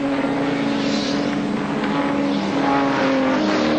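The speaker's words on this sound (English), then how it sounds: "Two turbo cars here locked in battle" Turbocharged touring race cars battle at Adelaide International Raceway in the 1986 Australian Touring Car Championship, their engines producing a loud, steady, buzzing drone that holds throughout with no talking.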